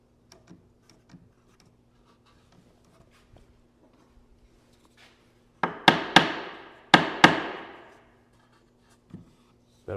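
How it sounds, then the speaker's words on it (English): A small hammer strikes into a reclaimed white oak Shaker-style bench during assembly. There are four sharp, ringing blows in two close pairs, with faint workshop taps before and after. "I'll get some comments about my tiny hammer."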